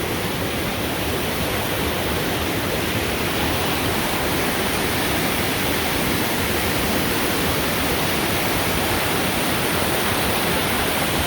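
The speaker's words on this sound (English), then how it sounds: "So much water." A swollen river rushes loudly past a mountain trail crossing, its steady, dense roar of water filling the whole span without letting up.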